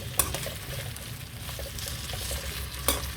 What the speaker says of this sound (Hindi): भिंडी को मैंने लाइट सा फ्राई कर लिया है